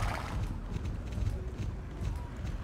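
Horse hooves clip-clopping in the video game Star Stable Online, a steady rhythmic trot of moderately close hoofbeats over a low background bed.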